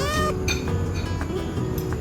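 A cat meows near a beach sushi bar, with a harmonic call at the start and later short meows over a busy background of clinking dishes and cutlery.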